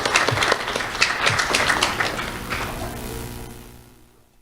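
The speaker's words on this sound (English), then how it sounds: "Let's have a round of applause for Alexis Maldonado." A round of applause at a sheriff's office student awards ceremony, with distinct, fairly close claps from a modest crowd that thin out and fade away toward the end.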